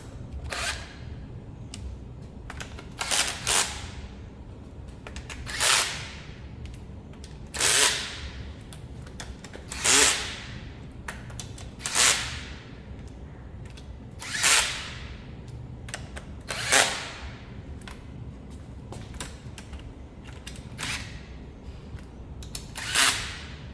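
Power drill running down transmission pan bolts one after another, about a dozen short whirring bursts spaced every couple of seconds, close and loud, with quiet handling noise between them and no talk.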